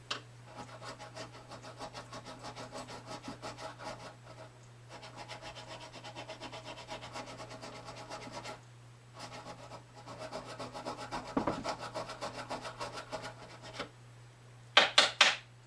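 Steady scraping strokes of a file on the metal frets of a Martin D-15 guitar, a continuous rasping rhythm that pauses briefly a few times, close and moderately loud.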